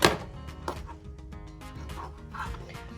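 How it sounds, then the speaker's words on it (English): A knife slices food on a cutting board while preparing a breakfast casserole, with several close, crisp cuts in an irregular rhythm over a few seconds. "So I am just making slices like this."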